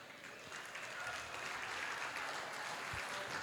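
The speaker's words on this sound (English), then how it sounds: "How about another big round of applause for all of our winners this evening?" An audience at a New Zealand shearing championships prize-giving evening claps for the winners, a soft, steady wash of applause building slightly in loudness, heard from some distance.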